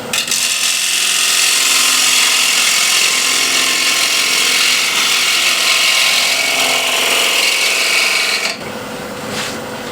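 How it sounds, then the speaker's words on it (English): A bowl gouge cuts into a wooden platter spinning on a lathe, giving a loud, continuous scraping roar that ends abruptly near the end and leaves a softer whirring behind it. "And now I'm using a bow gouge."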